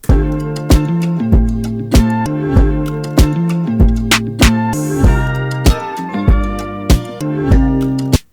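A punchy hip hop beat with hard, evenly spaced kicks and snares over a looping chopped melodic sample, loud and steady.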